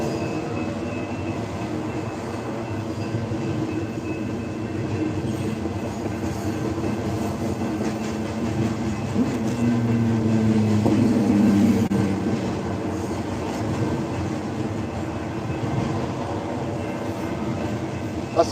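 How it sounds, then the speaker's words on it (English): A long train rolls past at an outdoor camp, a loud, continuous rumble of railcars with rhythmic wheel clatter and brief squeals lasting the whole stretch, swelling slightly in the middle as the cars go by. "That's a long ass train."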